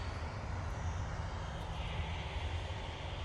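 A TUI airliner roars down the runway on its take-off roll at Manchester Airport, a dense, steady engine rumble heard from a distance with no voices.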